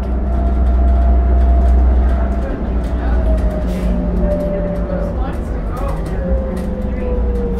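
A 2006 New Flyer D40LF city bus engine revs high during a ride, a loud steady drone whose pitch climbs and shifts slightly, heard from inside the cabin.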